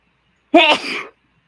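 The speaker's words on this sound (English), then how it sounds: "Excuse me while I sneeze." One sharp human sneeze, close and loud, bursting suddenly out of silence and ending within about half a second.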